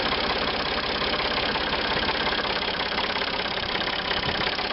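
A Ford 3600 three-cylinder 40 hp tractor engine runs at a steady idle, a loud, close, continuous chugging throb with an even rhythmic knock and no pauses.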